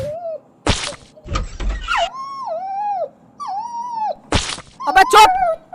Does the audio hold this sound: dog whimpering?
yes